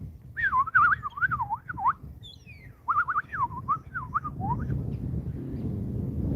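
Someone whistles close up in quick warbling, wavering phrases imitating bird calls, pauses briefly, then whistles another looping run of swooping notes.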